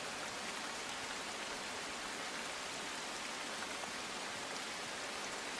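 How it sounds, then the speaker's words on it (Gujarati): Heavy downpour over the Aravalli hills, a dense, steady roar of rain hitting surfaces, loud and unbroken throughout with no voices. "અરવલ્લીની ગિરિમાળાઓમાં ધોધમાર વરસાદ"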